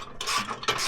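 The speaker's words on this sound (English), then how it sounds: "take your 19 millimeter socket and ratchet, and you'll" A 19 mm socket on a ratchet tightening hitch bolts on a 2018-2021 Jeep Wrangler: two short bursts of rapid pawl clicking, close and distinct, no voices.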